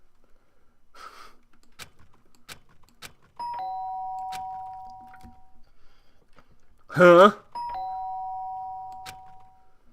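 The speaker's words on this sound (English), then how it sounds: "The sharp sound of the doorbell pierced my sleepy haze and pulled me back to the real world" Doorbell in the video game Danganronpa: Trigger Happy Havoc rings twice as a clear electronic two-tone chime, each ring held for about two seconds. A short startled voice cuts in between the rings over a quiet background.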